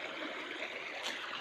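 Water flows steadily at a waterfall, a soft, continuous rushing and trickling heard from a short distance with no talking.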